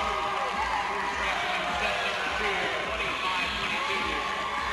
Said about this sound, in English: you can hear the crowd. They're going nuts here